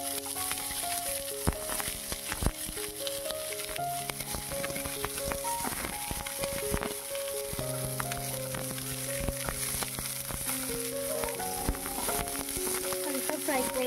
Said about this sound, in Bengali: দিয়ে এবার ক্যাপসিকাম আর পেঁয়াজগুলো একটু ফ্রাই করে নেব।